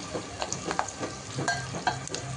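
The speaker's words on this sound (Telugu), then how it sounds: "అల్లం పేస్ట్ కొంచెం మంచిగా ఎంగి వరకు కలుపుకోవాలి" Ginger paste fries in hot oil in a pan, giving a steady close sizzle with scraping stirs from a spoon throughout the short stretch.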